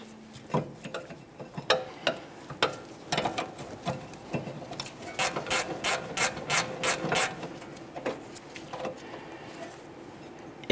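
A hand ratchet loosens a rear brake caliper bolt on a 2013-2015 Chevrolet Malibu. Close, crisp clicking comes first in separate strokes, then in a fast, even burst of ratcheting, with faint metallic rubbing between.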